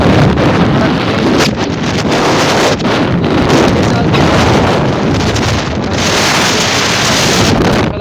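Loud, dense roar of heavy rain with strong wind buffeting the microphone, continuous throughout without a break.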